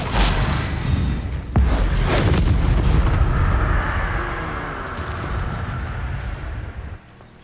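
A fiery Incendio spell is cast in Hogwarts Legacy, a loud burst followed by a booming, rumbling blast that roars steadily before fading away, then cutting off abruptly.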